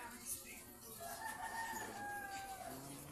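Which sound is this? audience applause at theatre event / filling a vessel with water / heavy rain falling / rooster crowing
rooster crowing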